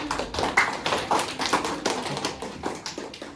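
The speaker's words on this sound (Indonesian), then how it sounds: "Tepuk tangan dulu tentunya." A class of students claps together in a loose, rapid patter, a group applause close by with no voices over it.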